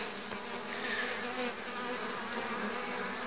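Honeybees buzz in an open hive fourteen days after a split, where a new queen has just emerged. The hum is a dense, steady drone that stays close and even throughout, with no voices.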